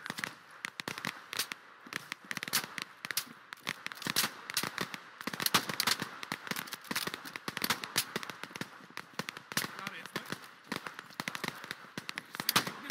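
Distant rapid gunfire in the video game Operation: Harsh Doorstop, dense crackling shots popping irregularly and fairly quietly throughout, with no clear reload sounds standing out.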